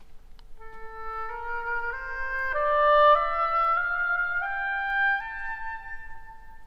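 A steady rising Phrygian scale in A, eight held notes in an exotic minor-like mode, played evenly on a mellow instrument with no talking.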